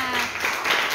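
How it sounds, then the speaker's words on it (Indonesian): A class of schoolchildren claps together during a biology lesson, a brief burst of dense applause filling the room with a faint voice underneath. "tepuk tangan dulu semuanya"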